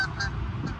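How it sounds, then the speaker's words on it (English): Ducks honk while flying overhead, giving a few short nasal calls at moderate distance over outdoor background noise. "Two ducks flying through the air."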